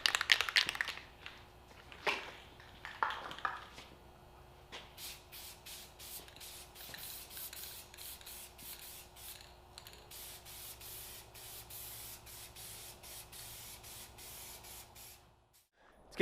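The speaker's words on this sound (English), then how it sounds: "let's give it some clear coat. Using Rust-Oleum Ultra Cover Matte Clear." Rust-Oleum Ultra Cover Matte Clear coat sprays from an aerosol can onto barn door windows in a long series of short hissing bursts, steady and close, preceded by a few rustling handling sounds.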